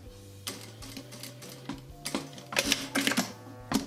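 A sewing machine stitches diagonally across folded fabric toward the point of a mitered corner, running in short, quick rhythmic bursts of close mechanical clatter with brief pauses between them.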